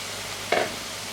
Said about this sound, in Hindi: इसमें आप ऐड करेंगे कीमा। 1 किलो कीमा है मेरे पास यहाँ पर मटन का।